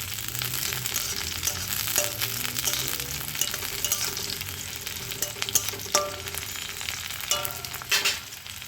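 Fried onion and slit green chillies being stirred in a hot pan, a loud ongoing sizzle broken by repeated spatula scrapes and knocks against the pan.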